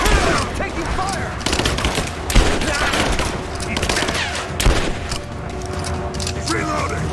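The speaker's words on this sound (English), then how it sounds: "Laying down covering fire!" Dense, sustained gunfire in Rise of the Tomb Raider combat, with overlapping automatic bursts and mechanical clatter running nearly nonstop under shouted voices.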